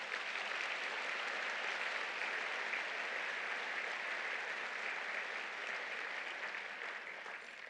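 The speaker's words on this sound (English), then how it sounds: "So just a round of applause for that." Applause from a luncheon audience honoring a retiring survey leader, steady dense clapping from a large room that runs evenly and fades slightly at the end, fairly distant and quiet.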